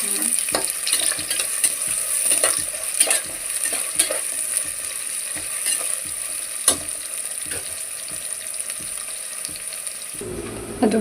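Onions frying in a pan for methi pulao hiss with a steady, close sizzle, punctuated by occasional sharp clicks and scrapes of a stirring spoon against the pan.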